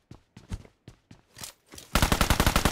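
Gunfire from a new 7.62 weapon in a video game: a few separate single shots, then a rapid, loud automatic burst of evenly spaced rounds near the end.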